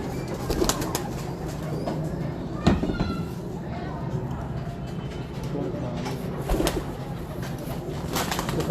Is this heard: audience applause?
no